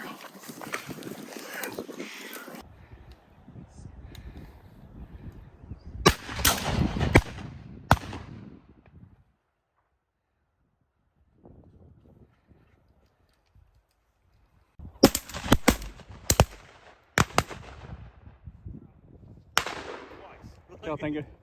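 Shotguns fire at released pheasants during a tower shoot, sharp loud reports in scattered clusters, some doubled in quick succession, separated by quieter stretches of outdoor background and brief talk.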